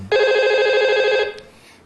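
A telephone rings once with a loud, close electronic trill that holds for just over a second before cutting off.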